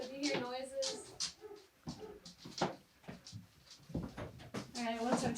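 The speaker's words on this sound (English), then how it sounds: "Everybody meet our new dog. Yeah, she's a tail drummer." A new puppy whimpers and yips in short bursts while its tail thumps in irregular soft taps, all close by and mixed under steady conversation between several people.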